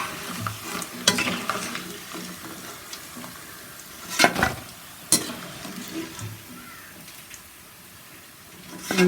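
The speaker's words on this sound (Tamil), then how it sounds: "நல்லா அந்த சலசலப்பெல்லாம் நல்லா அடங்கிடுச்சு. கொஞ்சம் தான் லேசாக தான் இருக்குது." Kerala nendran banana chips frying in hot oil, with a steady soft sizzle and bubbling throughout, punctuated by a few sharp stirring scrapes and clinks of a utensil in the pan, close and alone without talk.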